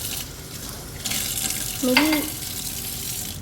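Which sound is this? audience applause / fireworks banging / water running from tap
water running from tap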